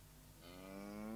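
A cartoon cow lets out a single drawn-out moo in the video game Simon the Sorcerer 3D, rising slightly in pitch and swelling toward the end, heard alone.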